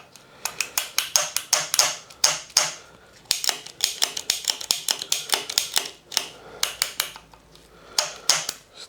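A Trek bike's shifter trigger and cable being worked back and forth with fresh lube, giving rapid, close, uneven bursts of sharp plastic-and-metal clicks with brief pauses between runs.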